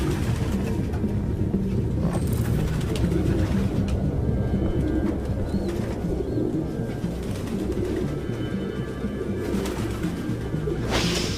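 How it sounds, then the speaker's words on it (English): Pigeons coo softly, a few scattered calls over a constant low rumble of ambient noise inside a grimy apartment in the game Detroit: Become Human. "No human could live with all these fucking pigeons."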